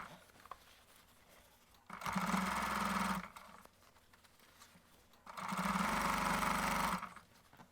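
A sewing machine stitches a crazy-quilt Christmas stocking in two steady whirring bursts of about a second and a half each, close and clear, with quiet pauses before and between them.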